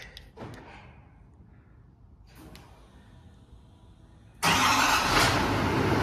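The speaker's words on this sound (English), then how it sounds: "here is a cold startup for the GMC" Cold start of a 2023 GMC Sierra 3500 diesel truck: a few faint clicks and thumps, then the engine catches abruptly and settles into a loud, steady close-up rumble.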